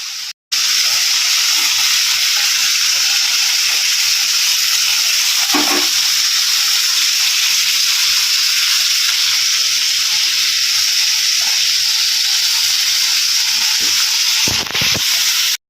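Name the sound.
frying fish curry (jhol) in a pan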